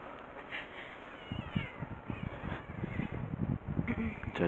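A cat met at Kouura Dam in Tsushima, Nagasaki meows in short, fairly faint calls amid outdoor ambience, with some soft rustling and a few louder bursts toward the end; no one speaks.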